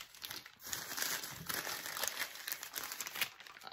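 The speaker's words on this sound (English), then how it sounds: "I'm just going to unwrap this above the box so all the fun little papers continue to fall in here." Gift paper crinkles and crumples steadily as a present is unwrapped above an open box, a close, continuous rustle with scattered sharper crackles throughout.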